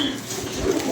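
A pigeon coos near a loft, one short, low, throaty call over a faint background murmur.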